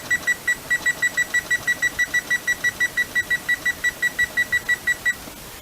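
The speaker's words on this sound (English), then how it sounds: "And you set the timer for 40 minutes." A kitchen oven timer beeps in a steady rapid series of about two dozen bright, evenly spaced tones over a quiet room hum, then stops.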